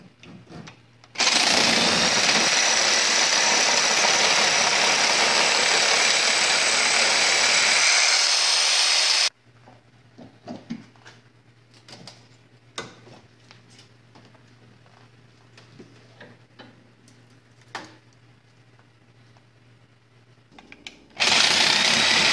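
A reciprocating saw cuts through an aluminum radiator for scrap, a loud continuous buzzing whine for several seconds that stops abruptly, followed by quieter handling clatter and a low hum before the saw briefly starts again.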